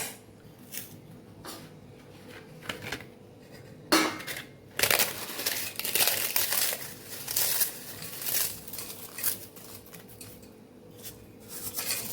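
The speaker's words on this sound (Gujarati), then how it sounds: "પાછા થોડા મમરા ઉમેરી દઈશું" Puffed rice poured into a bowl for jhal muri street food, a series of crisp rustling, crunching pours in uneven bursts, close and fairly quiet, without speech.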